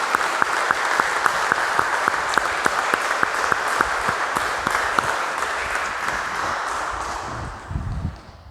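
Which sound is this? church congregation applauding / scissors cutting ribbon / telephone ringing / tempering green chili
church congregation applauding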